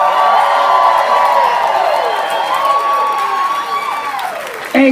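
At a country club wedding reception, a crowd of guests cheers loudly with whoops and shouts over clapping, sustained for several seconds before tapering slightly.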